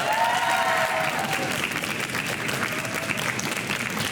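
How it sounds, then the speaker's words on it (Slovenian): Steady applause from a school quiz audience cheering both competing teams, many hands clapping in a dense, even patter that holds for several seconds. "En aplavz za obe ekipi."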